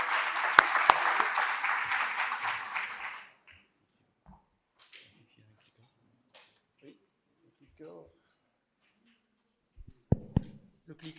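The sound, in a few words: audience applause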